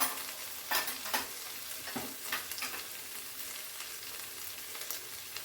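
Masala for Bengali doi paneer fries and is stirred in a pan, a soft continuous sizzle punctuated by scraping spatula strokes, fairly quiet and close.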